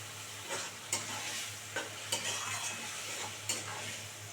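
Mourola fish cooking with raw tomato in a pan as a utensil stirs it, a steady sizzle broken by several sharp scraping knocks spaced through the stretch; close and fairly quiet, with no talking.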